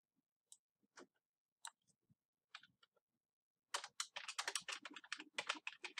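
Typing on a computer keyboard while building a website: a few sparse, separate keystrokes at first, then a quick, dense burst of clicking toward the end, close and fairly quiet, with no voices.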